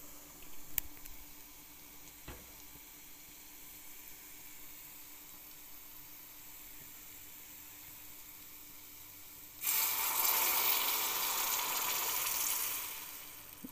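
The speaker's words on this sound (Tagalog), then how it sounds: "So mag-a-add na po tayo ng tubig." Water poured into a small pot of sinigang na tambakol, a tuna sour soup. After a long stretch of quiet low hum, a steady, bright rush of pouring starts near the end, close and fairly loud, then tapers off.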